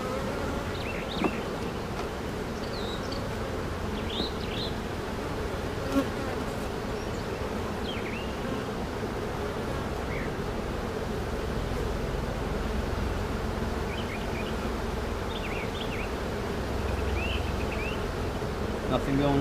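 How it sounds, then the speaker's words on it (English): Dense, steady drone of many honeybees buzzing at an open hive during an early May full frame-by-frame inspection, a continuous near hum filling the whole stretch with occasional individual bees flying close past. "these bees are doing their thing"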